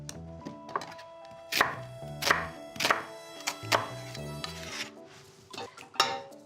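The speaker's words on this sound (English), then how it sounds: "again coarsely chopped." A knife coarsely chops onion on a board, a dozen or so irregular crisp thuds close by, some harder strikes among lighter cuts, with no voices.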